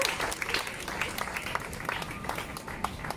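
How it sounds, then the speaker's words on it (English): Audience applause at an outdoor sculpture unveiling in Sydney, a steady mid-level clapping with many distinct hand claps from a moderately sized crowd, with no talking over it. "please clap him"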